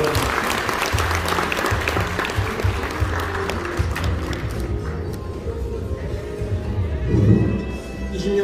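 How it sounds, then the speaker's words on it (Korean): Banquet guests applaud at an 80th birthday celebration in a hotel ballroom, a broad steady wash of clapping that thins out toward the end with some murmuring underneath. "다시 한번 박수 부탁드리겠습니다"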